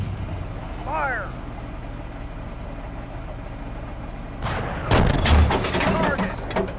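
A Leopard 2A4 tank cannon firing in the Steel Beasts simulation lands as one sharp, loud boom followed by a rumbling tail, after a brief bit of radio-style voice and a steady engine hum.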